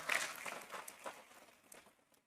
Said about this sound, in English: how about a round of applause for the West Bloomfield Police and Fire Honor Guard